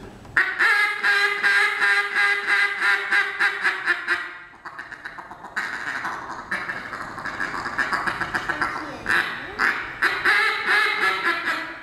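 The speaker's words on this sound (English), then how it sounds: "That is a reed-style owl hooter." A reed-style owl hooter blown repeatedly, giving loud, close, rapid reedy quacking-like calls in pulsing bursts with a short pause midway, with no talk.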